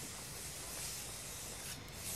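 A spray can hissing in the video game Far Cry 6, a short steady airy hiss held for about two seconds at low volume with no talking.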